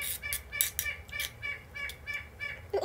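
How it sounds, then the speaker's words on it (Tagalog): A crow calling outdoors in a breezy spot, giving several loud, harsh, evenly spaced caws with faint wind underneath. "May uwak."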